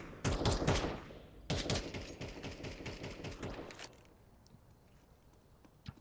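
Desert Eagle pistols firing in a Counter-Strike match, rapid loud bursts of close gunshots in two clusters, then fading to quieter scattered shots.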